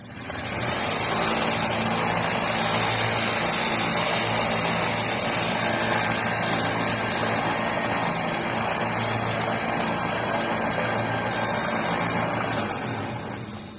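An electric motor runs steadily and loudly throughout, a constant whining drone with a high-pitched tone on top, powering a sharpener for a bolo blade, with no talk.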